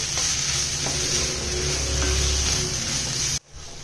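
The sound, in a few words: chopped tomatoes cooking in a pan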